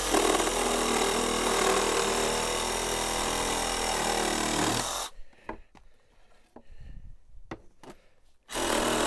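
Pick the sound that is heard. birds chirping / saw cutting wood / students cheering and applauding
saw cutting wood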